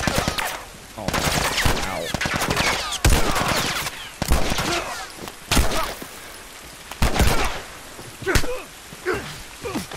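Gunfire in The Last of Us crackles in loud, rapid bursts of repeated shots, with sharp cracks spaced across the stretch and brief gaps between volleys.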